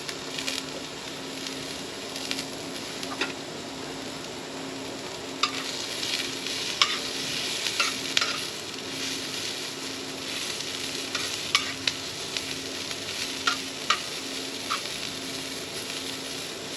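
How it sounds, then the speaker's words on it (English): Vegetables, tomatoes among them, sauté in a pan in a small trailer kitchen with a steady close sizzle. Occasional sharp pops and utensil clicks come through over a faint constant hum. "I'm going to let all of this saute together"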